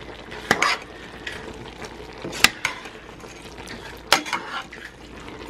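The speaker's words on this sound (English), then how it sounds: "Give it a good stir." Cabbage with plum jelly is stirred in a pan, three sharp scraping strokes standing out over a soft background sizzle, close and clear.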